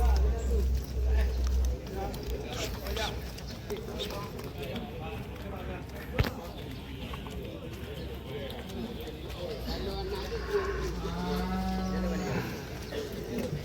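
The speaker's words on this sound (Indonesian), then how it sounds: "Ini contohnya sapinya yang 3 bulan." Cattle held in a livestock pen at a cattle trading business, with low animal calls and shuffling close by, while people talk over them throughout.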